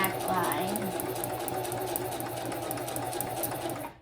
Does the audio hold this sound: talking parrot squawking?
no